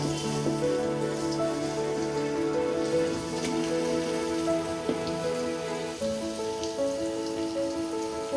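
Chilli chicken fries in a hot kadai, giving a dense, continuous sizzle and crackle like steady rain that keeps going from start to finish, with no one speaking.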